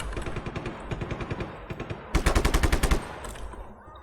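Rapid automatic gunfire from the open-world action game Just Cause 3, with bursts of sharp, evenly spaced shots building to a louder, denser volley near the middle before fading into echo.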